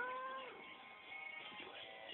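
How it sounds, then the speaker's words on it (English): A cat meows softly, a drawn-out mew that falls in pitch, followed by quieter fading sounds. "You heard the kitty."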